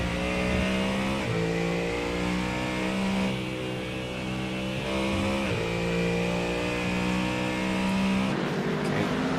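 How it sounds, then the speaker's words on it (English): A GT3 race car engine in iRacing at Road America revs in a continuous drone with rising and falling pitch, shifting gears at a few points. "Just have a little listen to the engine."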